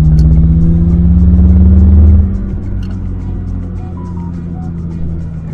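A supercharged BMW, its compressor adding about 120 hp, pulls hard in third gear close by with a loud, deep engine drone for about two seconds. The engine then backs off to a lower rumble.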